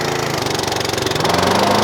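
Skag V-Ride 2 36-inch mower with a 19-horsepower Kawasaki FX 600V engine running, a loud steady pulsing drone nearby, rising slightly in pitch toward the end.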